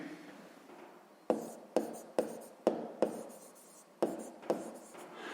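A pencil scratches across paper during a math exercise in a series of about nine short, crisp strokes, some clustered quickly and others with brief pauses, close and fairly quiet with no talking.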